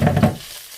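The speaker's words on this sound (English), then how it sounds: "I'm just going to put that right in this hot skillet." Pork landing in a hot skillet gives a brief burst of close sizzling that quickly settles to a faint hiss within a second.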